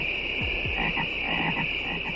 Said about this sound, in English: 3 photorealistic swamp frogs would simply croak Budweiser in sequence